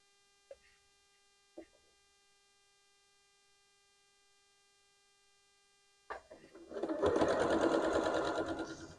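A couple of faint clicks and a steady hum, then a sewing machine starts up and runs in a fast, loud mechanical whir for a few seconds.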